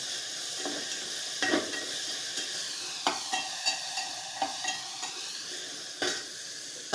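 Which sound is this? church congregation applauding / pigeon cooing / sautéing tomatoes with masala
sautéing tomatoes with masala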